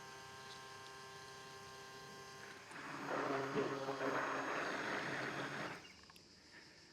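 An immersion blender whirs through homemade mayonnaise for about three seconds, rising from a quiet hum to a louder churning buzz and then cutting off.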